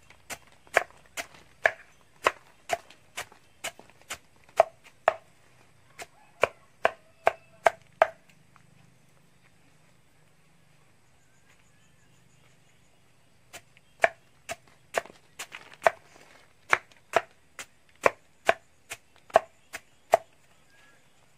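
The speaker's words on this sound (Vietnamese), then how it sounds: "mình sẽ băm nhỏ cái đống này" Sharp, evenly spaced chops of a blade striking through plant stalks for pig feed onto a hard surface, two long runs separated by a quiet pause, close and crisp.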